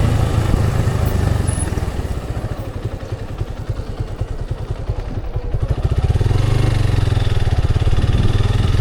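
A sports-style motorcycle with a carbureted SF engine idles close by, a steady loud low throb with a rapid rhythmic putter that swells slightly toward the end, no talk.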